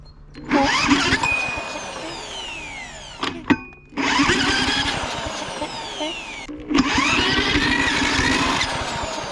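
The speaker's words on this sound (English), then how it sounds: "I'm going to use the drill. See if we get it going." A cordless drill whines up in three long bursts, spinning a Troy-Bilt push lawn mower engine hard while it sputters and fails to catch, with brief pauses between attempts.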